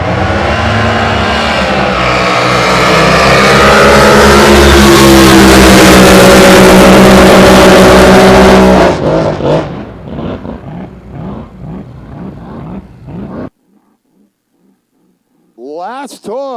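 At a drag racing season opener, a Chevy Colt with a TRT 540 engine roars very loud and close at full throttle, then cuts out and crackles and pops as it fades into near silence before a brief revving burst at the end.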